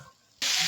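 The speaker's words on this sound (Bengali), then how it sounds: "মশলা দিয়ে হালকা একটু জল দিয়ে দেবো" Water poured into a pan of Hakka noodles and spices: quiet at first, then a sudden loud, broad hiss and spray for the final third as the water hits the hot pan.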